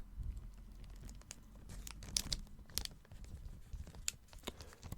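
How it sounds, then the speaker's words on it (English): A clear plastic bag being crinkled and handled close up, soft irregular crackles and sharp snaps scattered over a quiet background. "it is a clear plastic bag"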